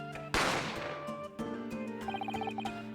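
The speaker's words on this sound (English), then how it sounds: "A gunshot rang out" A single sharp gunshot cracks out in The Great Ace Attorney, a loud burst that decays into sustained game music.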